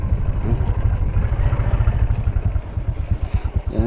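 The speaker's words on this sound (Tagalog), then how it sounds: "Pinasok talaga naming motor." A motorcycle engine chugs loud and close in steady rapid low pulses as the bike rides in, running continuously without talk.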